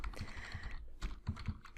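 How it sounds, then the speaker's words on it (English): A computer keyboard is typed on in quick, light, uneven clicks, faint and close-up, with no talk over it. "sorry if you can hear my keyboard"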